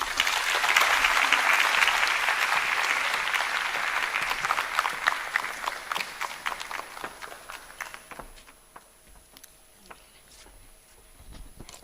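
A crowd at a mayoral matric awards ceremony applauds a speaker. Dense, steady clapping fills the first several seconds, then thins into scattered individual claps that trail off toward the end.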